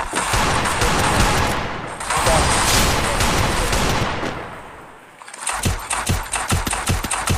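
A shooting video game rattles with bursts of rapid automatic gunfire, two long sustained volleys followed by a string of sharp single shots.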